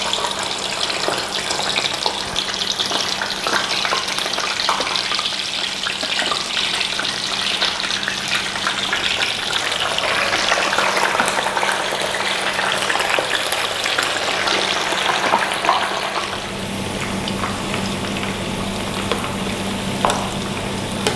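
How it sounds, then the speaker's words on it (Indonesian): Continuous loud sizzling of seaweed-wrapped tofu frying in hot oil, a dense crackling hiss close up that shifts slightly in intensity with occasional stirring. "kita langsung goreng aja minyak panas ya"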